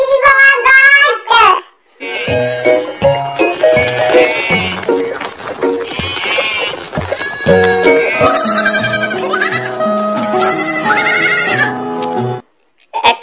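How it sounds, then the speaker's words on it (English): Goat bleats ring out in a series of wavering, nasal cries, loud and close, with short pauses between calls. "G for goat."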